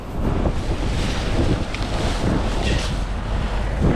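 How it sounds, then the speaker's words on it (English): Outdoor wind gusting across the microphone, a loud continuous rumbling buffet with uneven surges throughout and no speech. "wind's picking up"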